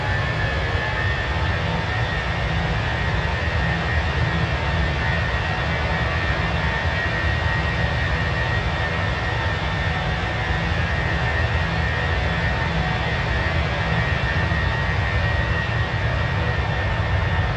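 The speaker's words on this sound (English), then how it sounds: "Listen to those engines." Airbus A321 IAE engines climbing in the MSFS flight simulator give off a steady, loud, continuous jet roar with a constant whine and no pauses or talk.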